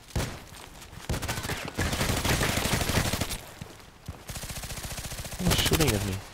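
Rapid gunfire bursts from the online shooter Contract Wars, loud and dense, with repeated automatic volleys and a short pause near the middle, while a player talks over the shooting.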